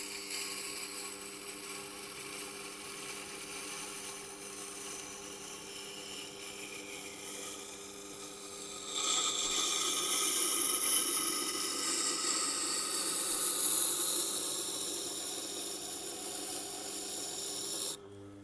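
A Tormek T8 sharpener grinds a reverse curve knife, a steady rasping hiss over a low motor hum that grows louder and harsher halfway through as the blade presses harder, then cuts off abruptly at the end.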